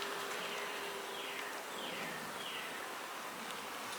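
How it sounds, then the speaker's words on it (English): Honeybees hum steadily around an open hive frame lifted out on a warm day, a dense, even drone that stays close and constant with no voices. "I see some bees with some pollen on their legs."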